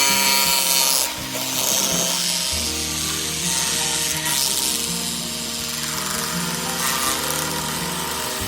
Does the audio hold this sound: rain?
no